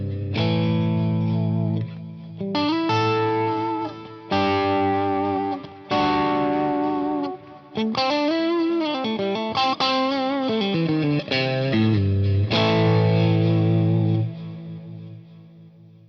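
An electric guitar played through a delay effect in a wet/dry/wet rig: distorted, sustained chords and melodic lines with trailing repeats and a chorus-like shimmer, loud and close, with brief gaps between phrases.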